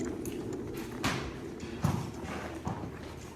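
Freddie, a general purpose horse, walks at a farrier's, his hooves clip-clopping on a hard surface in a slow, uneven rhythm of distinct knocks over a faint background murmur.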